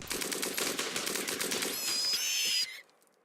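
Rapid bursts of RimWorld gunfire crackle steadily, then give way to a brief whistling, ringing tone before cutting off into near silence; loud and alone, with no talk.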